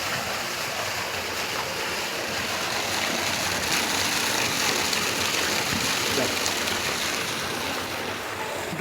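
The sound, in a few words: water gushing out of a pipe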